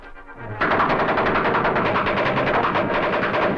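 Gunfire in an old mystery film erupts as a rapid, dense burst of shots, loud and continuous like a machine gun, after a brief quieter moment.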